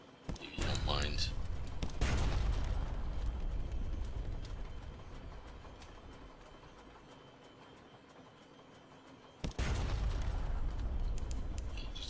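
Heavy naval guns firing from a ship in Sunless Sea: a loud booming blast with a long rumbling tail that fades out, then a second sharp boom near the end, over a low ambient drone.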